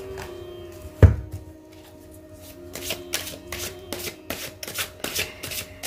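Tarot cards being shuffled and drawn, starting with a sharp knock, then a close run of quick riffling and flicking card sounds over a faint steady background tone.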